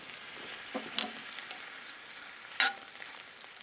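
Sliced onions with balsamic vinegar fry in a pan for a burger, giving a steady soft sizzle broken by a couple of sharp spatula scrapes as they are stirred, close and moderately loud.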